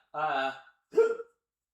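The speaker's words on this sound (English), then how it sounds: "The hiccups are fighting my every move." Two close hiccups from a person, each a sharp voiced gulp with a pause between them, loud against a silent background.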